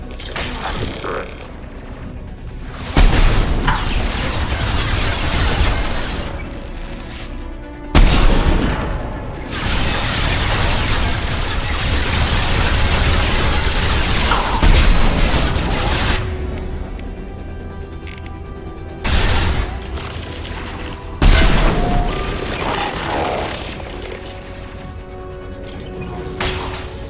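Turret fire in Mass Effect 2 bursts out in loud, dense volleys, with sharp cracks and booms layered over a steady mechanical roar and separated by brief lulls.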